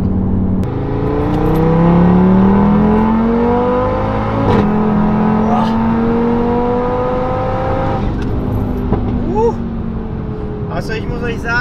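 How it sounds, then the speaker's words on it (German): A tuned Audi TT RS with a large turbocharger pulls hard at full throttle in fifth gear, its engine note rising steadily and loudly from inside the cabin before easing off. "Also man merkt, ich bin jetzt 5er Gang Volllast."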